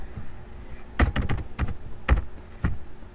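Rapid typing on a computer keyboard, with irregular bursts of sharp key clicks and a few louder keystrokes, close and alone.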